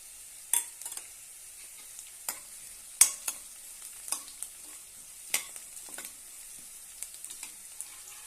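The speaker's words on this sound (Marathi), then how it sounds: "एक चमच उडदाची डाळ घालूया आता यामध्ये थोडासा कढीपत्ता घालूया" Urad dal and curry leaves hitting hot oil in a pan for curd upma, a steady high sizzle broken by irregular sharp crackles and pops, close and alone with no voices.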